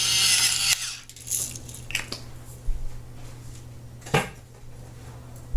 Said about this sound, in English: Fresh ground pepper is pretty much the best that I like. Crack that on there.